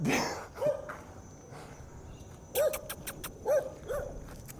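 A small dog yips and barks a few times in short, sharp bursts, fairly close, with some background rustling and movement.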